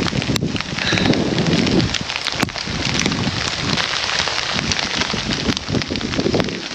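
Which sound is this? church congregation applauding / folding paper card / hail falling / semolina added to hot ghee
hail falling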